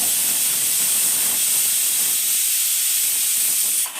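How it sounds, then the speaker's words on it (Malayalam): A loud, steady hiss of steam escaping under pressure from a pressure cooker whistle cooking sambar, continuous for a few seconds before cutting off abruptly at the end. "കുക്കർ ഇങ്ങനെ രണ്ട് മൂന്ന് വിസിലൊക്കെ അടിച്ച്"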